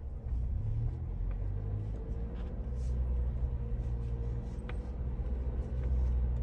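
Ford Bronco with a manual transmission creeping in crawler gear while turning around, a steady low engine rumble throughout with faint incidental clicks, no talking.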